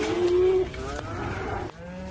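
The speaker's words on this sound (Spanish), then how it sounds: "En este establo hay un rebaño de vacas que la evolución nunca habría podido crear." A herd of cloned cows stands in a barn. One gives a short low moo at the start, followed by quieter lowing and shuffling barn noise for about two seconds.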